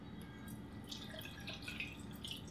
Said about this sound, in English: and then we just fill it up with water